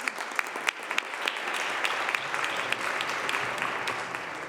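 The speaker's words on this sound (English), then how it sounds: "Yes, she deserves a little cheer." An assembled chamber of the New York State Senate breaks into sustained applause for a young pilot, dense clapping with a few sharper claps standing out, steady throughout with no voices over it.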